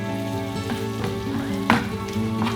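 Prawns cooking in garlic butter in a pan, a crackling sizzle under steady background music, with a couple of sharper pops and utensil clinks.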